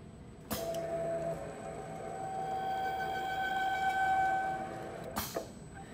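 A programmable computerized quilting sewing machine runs its startup routine, initializing the needle and then the arm: a sharp mechanical clack opens a steady whirring motor hum with sustained tones, ending in another clack about five seconds later.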